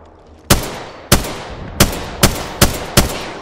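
Six sharp video game gunshots ring out at irregular intervals, each a loud broadband crack with a short decaying tail, over a low steady background rumble.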